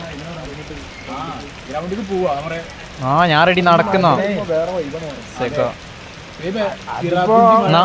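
Steady rain patters outdoors on a rainy day before a football game, a continuous hiss running beneath several people talking close by.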